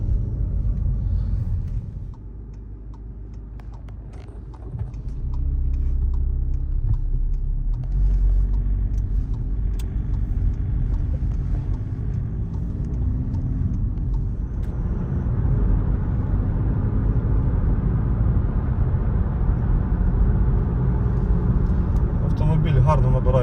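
A car with a 7-speed DSG gearbox drives steadily along a road, its engine and tire rumble constant and close, with the drone shifting slightly as it changes speed.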